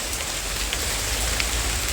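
Steady rain pouring down outdoors, a dense, even hiss of drops with occasional louder nearby splashes, close and continuous, with no one speaking.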